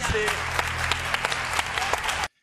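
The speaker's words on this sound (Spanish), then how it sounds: "voy a pedir un aplauso para esta reportera" Studio audience applause for a television reporter, dense steady clapping at close range that fills the short stretch and then cuts off abruptly.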